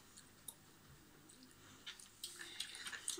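Faint, close chewing of gum, with soft wet smacks and clicks that grow busier and more irregular toward the end over quiet background noise.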